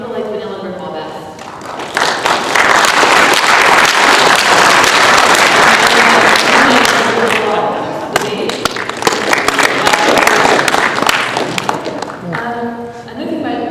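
A PAX East 2011 convention panel audience bursts into loud, sustained clapping and cheering that swells for several seconds before tapering off, with voices at the start and end.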